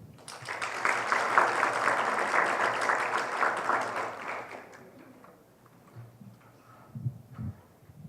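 Dense applause from a conference audience swells for about five seconds, then fades out, leaving quiet room noise and a faint voice.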